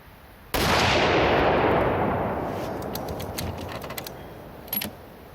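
A single loud gunshot fired at a target with homemade reloaded ammunition, a sharp blast followed by a long fading outdoor echo, with a few faint clicks near the end.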